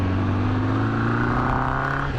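Kawasaki GPX600R motorcycle engine pulling hard through the gears, a loud, steady close-up drone with rising tonal harmonics that climb and then drop briefly at a shift.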